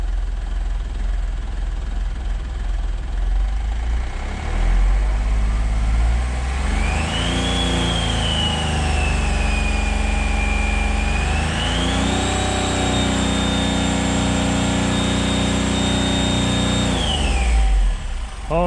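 A Smart Fortwo engine with its intercooler deleted idles steadily and loud up close, then revs up in two long sustained pulls that rise, hold and fall back to idle.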